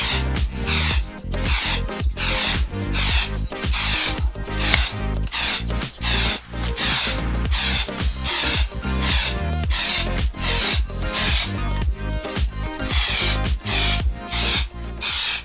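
A cleaning product spray bottle is squeezed over and over in quick, steady succession, each trigger pull giving a sharp, close hiss, roughly two bursts a second throughout with no pauses.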